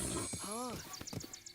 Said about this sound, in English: Was that Epona? That looked like Epona.